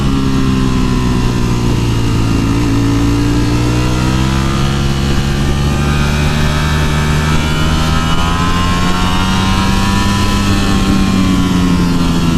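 A 2018 Ducati Panigale V4S revs steadily and loudly close by, the engine note climbing and falling smoothly through its gears as it pulls, a continuous rich drone with no voices.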